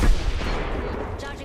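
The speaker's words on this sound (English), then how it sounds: "Getting shot at." Gunfire in the Apex Legends battle royale game: a dense, loud, continuous roar of shots with heavy low rumble and no pauses.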